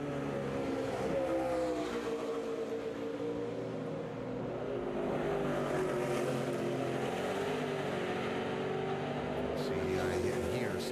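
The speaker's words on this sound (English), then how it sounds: "I did hear Sam's car there as he went through the kink, breaking a little traction" A NASCAR Nationwide Series stock car at Road America races through a fast kink and briefly breaks traction, its engine a sustained loud droning roar with shifting pitch that fills the whole stretch, with commentary voices underneath.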